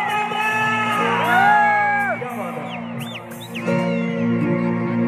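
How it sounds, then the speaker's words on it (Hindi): An audience at an Indian evening stage show cheers and whoops loudly, with rising and falling shouts and yells layered over a sustained musical drone, fairly close, with no clear clapping. "तालियां बजा दीजिए एक बार पूरे रामपुर के"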